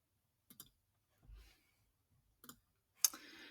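Mouse clicks while choosing Gmail inbox settings: a few sharp, faint clicks spaced across a quiet stretch, with one louder click near the end, no talking.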